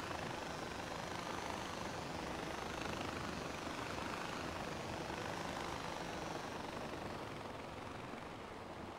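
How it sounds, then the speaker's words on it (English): A helicopter in the video game Far Cry 4 gives a continuous, even rotor roar that holds at a moderate distance for the whole stretch, with no voices. "Do I hear other helicopters?"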